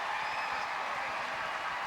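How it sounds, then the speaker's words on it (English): A crowd at a swimming pool event cheers and applauds in a steady, distant wash of noise, with no clear individual voices. "The crowd are loving it."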